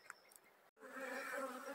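Honeybees at an apiary feeding on VHP sugar, a few faint clicks, a brief gap, then a dense close buzz of many insects swelling and holding steady.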